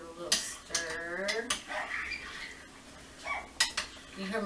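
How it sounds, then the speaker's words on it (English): Meat is stirred into sauerkraut in a pot with a utensil, giving repeated scraping clanks and metallic knocks up close. Faint background sounds that may include a dog are heard, and there is no talking. "And we're going to give it a little stir."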